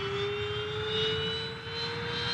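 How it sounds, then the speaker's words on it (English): Specially equipped NASA jet aircraft in flight, a steady loud engine roar with a constant whine, heard from inside or close by and continuous throughout with no voices. "A specially equipped NASA jet allows us to see some of its most striking features from the air."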